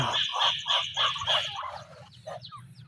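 Several loud, close fowl calls come in a rhythmic run of repeated honking bursts, a neighbour's ducks wandering outdoors, followed by fainter scattered calls as the sequence trails off.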